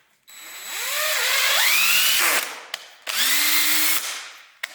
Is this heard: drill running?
yes